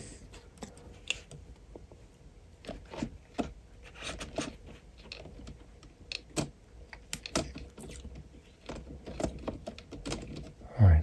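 The keyboard of a PowerBook G4 laptop is pressed back into place, giving a run of quiet, close clicks and taps in irregular bursts, with faint talk in the background.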